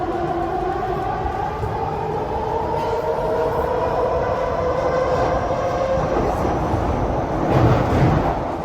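A Singapore MRT metro train runs with a loud, continuous rumble and a steady rising whine, growing rougher and louder toward the end, with no talking.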